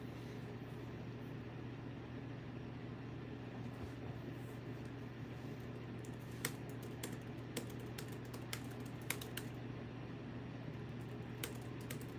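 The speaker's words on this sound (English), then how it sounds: "I've always been told that I type very violently." Faint, scattered keyboard clicks over a steady low hum, irregular taps coming in little clusters, no voices.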